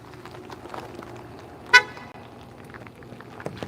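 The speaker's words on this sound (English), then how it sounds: "That was Andy honking goodbye to y'all." A departing railroader's car horn toots once, a short clear honk at a trackside spot, standing out above a low steady background hum.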